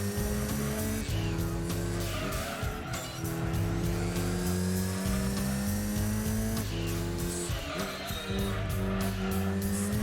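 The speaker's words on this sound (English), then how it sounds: "lots of unnecessary tire spin, tire squeal" Cars racing in Gran Turismo 2, engine droning steadily throughout with bursts of squealing, spinning tires over continuous game sound, loud and close.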